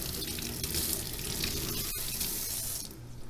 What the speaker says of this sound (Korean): 그 다음에 초생각이 투명해지면 단물에다가 씻을 줍니다